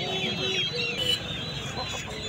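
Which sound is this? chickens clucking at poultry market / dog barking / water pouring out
chickens clucking at poultry market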